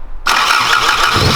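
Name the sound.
Toyota Corolla AE86 engine starting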